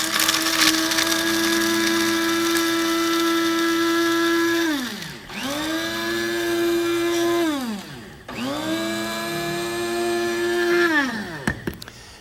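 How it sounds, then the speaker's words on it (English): Raw, unsalted pistachio nuts are ground to powder in a high-speed electric grinder. It makes a loud, steady whine that cuts out and spins back up twice, then ends in brief clatters, with no voices. "Now over here we've got some pistachio nuts. We're going to grind them up"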